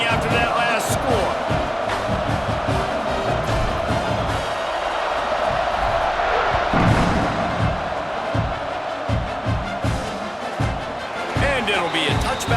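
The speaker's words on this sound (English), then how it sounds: "this crowd is buzzing after that last score" A stadium crowd in EA Sports College Football 26 buzzes steadily after a touchdown kick return, a continuous broad roar with scattered thumps running the whole way under close play-by-play commentary.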